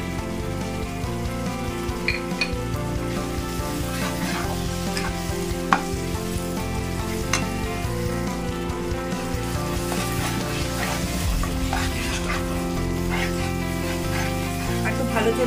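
Dal makhani with kasuri methi fries and bubbles in a pan, a continuous close sizzle broken by scraping stir strokes throughout, fairly loud and without speech.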